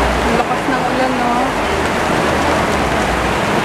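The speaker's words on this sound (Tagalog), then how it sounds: "Ang lakas ng ulan, no?" Heavy rain pours down in a dense, loud, steady roar that fills the whole clip, with a voice faintly audible beneath the downpour.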